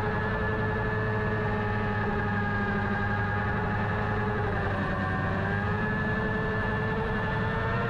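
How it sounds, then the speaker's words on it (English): A motorcycle ridden on track at Donington Park drones with a steady, sustained engine note that holds fairly even throughout, shifting slightly in pitch midway, with no voices. "So I'll let you listen to my bike here."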